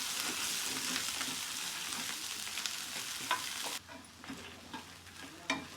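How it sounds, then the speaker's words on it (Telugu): Onions frying in a pan, with a steady crackling sizzle and repeated scraping stirs of a spoon; the sizzle drops quieter partway through while occasional stirring clicks continue. "ఉల్లిపాయ మొత్తం మనకి బాగా వేగిపోవాలి"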